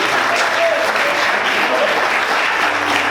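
Congregation applauding during a church service, a steady, dense wash of many hands clapping that fills the whole moment without pause.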